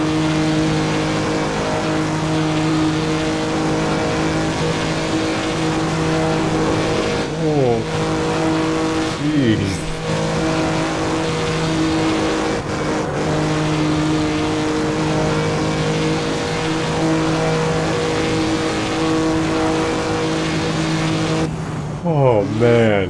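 A Jaguar C-Type race car in Assetto Corsa laps Feldbergring with a loud, steady engine drone that rises and falls through gear changes, with occasional tire squeal and a person talking over it.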